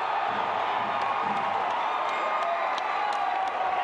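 Crowd at a Singapore Premier League football match between Albirex Niigata and Tampines Rovers, a steady loud roar of massed voices and cheering with scattered whistles and shouts, sustained throughout.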